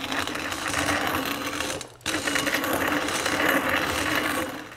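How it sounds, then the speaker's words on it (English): A hand-cranked stone mill grinds homegrown corn into cornmeal with a loud, continuous, rough mechanical grinding that breaks off for a moment midway and then resumes at full strength. "we're gonna go ahead and grind some cornmeal"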